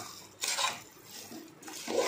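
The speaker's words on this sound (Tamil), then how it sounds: "இப்போ அரிசியை இதோடு சேர்ந்து நல்லா கலந்து விட்டுக்கலாம்." Rice is stirred into a potato gravy in a pot for kuska, producing close, intermittent scraping and clinking of a spoon against the pot in several short bursts, with no talking.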